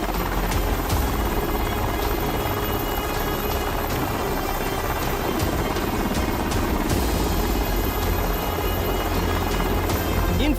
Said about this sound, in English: shipboard landings are pretty common in the Navy